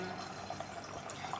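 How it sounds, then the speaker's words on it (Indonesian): Water runs steadily out of a tank through a drain tap in a water-level control setup, giving a soft continuous gushing hiss with no pauses, fairly quiet and close. "Kita buang airnya, makanya di sini ada keran untuk membuang airnya ya."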